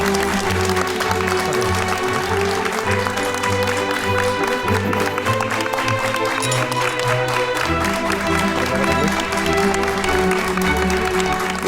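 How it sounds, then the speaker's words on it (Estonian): An audience applauds the new young champions of an emergency medical technician skills competition, a continuous patter of clapping mixed with loud music for the whole stretch. "palun eriti suur aplaus uutele noortele meistritele Kerli Annabel ja Rasmus"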